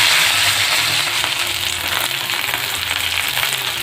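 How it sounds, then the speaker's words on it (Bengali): Bata fish fry in mustard oil with a loud, continuous sizzle and a dense crackle that holds steady from start to finish. "এইভাবে উল্টে পাল্টে লাল লাল করে ভেজে নেব।"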